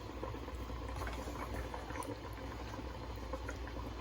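A pot of water boils for spaghetti pasta, a steady close bubbling and patter with no speech over it.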